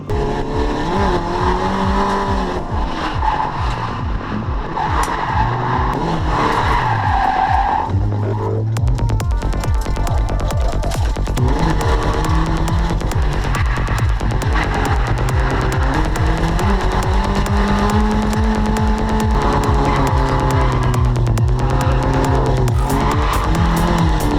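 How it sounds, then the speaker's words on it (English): A race car at a track day on a concrete-walled circuit throws a Scandinavian flick, engine roaring loud and steady while tires squeal and skid almost without pause. "And we had the time of our lives learning how to Scando Flick."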